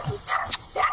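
A dog gives a few short, high yips and barks close by, about three quick bursts in a second.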